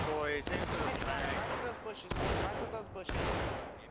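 Musket gunfire in a War of Rights public match at Hagerstown Turnpike, several sharp cracks spaced irregularly amid a dense battle din, with shouted voices in the background.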